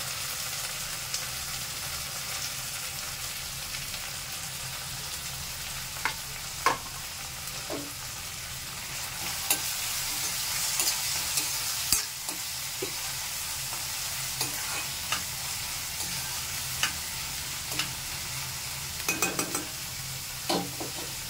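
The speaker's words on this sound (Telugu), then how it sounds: "వేగిన తర్వాత ఆనియన్స్ వేయండి. ఆనియన్స్ వేసి మగ్గనివ్వండి." Onions and coriander leaves frying in oil in a pan for potlakaya (snake gourd) curry, giving a continuous hiss with a louder sizzling surge midway and scattered clicks and scrapes of stirring, no talking.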